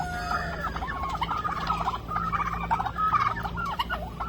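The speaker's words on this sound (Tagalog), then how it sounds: "Kita nyo na lang talaga itong mga pabo ko." Several fighting turkeys gobble in rapid, overlapping bursts close by, a busy chorus of warbling calls over a low steady background hum.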